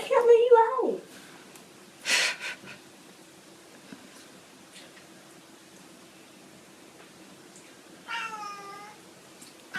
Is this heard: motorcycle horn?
no